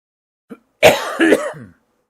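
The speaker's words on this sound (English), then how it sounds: "Hopefully I remember to edit that cough out." A single short cough, followed by a longer rough throat clearing in two or three bursts, close and fairly loud, with no talk.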